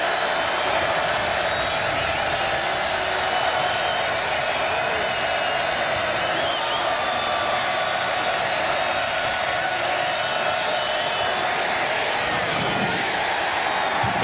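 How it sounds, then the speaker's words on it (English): A college football stadium crowd in Lawrence roars loudly and steadily on a third-and-six defensive stand, a dense wash of cheering and applause that holds from start to finish. "The crowd alive here in Lawrence."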